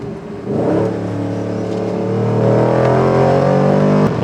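A Chevrolet Camaro SS with a naturally aspirated engine revs up hard, a loud, close roar that jumps in at once and climbs steadily in pitch as it accelerates, with no talk over it.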